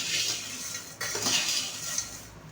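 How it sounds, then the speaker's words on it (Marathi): A spoon scraping and clinking against a metal pot while salt is mixed through a large batch of nylon sabudana chivda, with irregular close metallic scrapes and a sharper knock partway through, and no voices. "आता आपण व्यवस्थित मीठ मिक्स करून घ्यायचं आहे पूर्ण चिवड्याचं"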